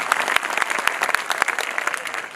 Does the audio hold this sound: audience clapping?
yes